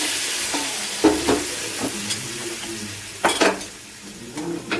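Spiced masala for a vegetarian aloo dum sizzling in a pan as a little potato-boiling water goes in, with steady frying hiss and a few louder scraping stirs of a spoon against the pot, close and alone.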